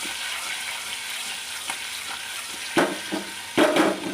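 Potato slices fry in oil in a pan for a stuffed eggplant and potato curry, a steady soft sizzle running throughout with a few louder spatters and stirring bursts near the end; no talking.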